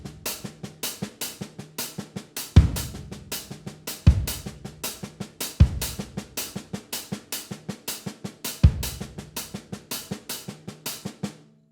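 Drum set groove, the second pattern, with steady ghost notes and recurring heavy accented hits in a repeating cycle, close and crisp, played alone with no talking.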